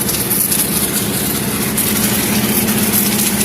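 An air compressor and a diesel auto-rickshaw engine at a vehicle wash, a loud continuous droning hum and hiss that fills the space without a break.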